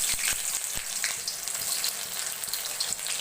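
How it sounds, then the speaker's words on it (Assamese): Onion sizzling in hot oil in a wok, a steady crackling hiss with sharp spitting pops scattered throughout, close and fairly loud. "কেৰাহীত মই তেল দিছিলোঁ, গৰম হৈছে। এতিয়া দিম মই পিঁয়াজ"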